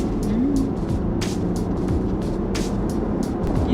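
A used diesel Mercedes or Jaguar luxury car with an 8-speed gearbox accelerates hard, a sustained engine drone rising in pitch, with crisp gear changes and road and tyre noise from inside the cabin.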